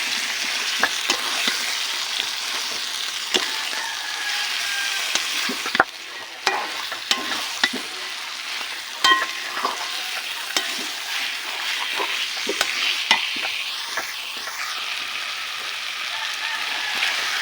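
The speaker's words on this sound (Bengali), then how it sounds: "মাংসের সঙ্গে মশলা ভালোভাবে মিশিয়ে নিতে হবে।" Mutton being stirred with spices in a pan, a continuous sizzling fry with repeated scraping and clacking of the spoon against the pan, close and fairly loud, with no talk.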